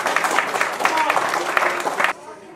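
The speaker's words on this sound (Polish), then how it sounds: "duże brawa dla wszystkich partnerów i sponsorów" A concert audience applauds partners and sponsors, a dense and fairly loud burst of clapping that lasts about two seconds before stopping abruptly, with a voice speaking through it.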